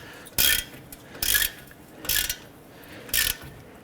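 A ratchet snugs down wheel hub bolts on a Honda Pilot, four crisp, close bursts of rapid clicking spaced about a second apart with quiet gaps between.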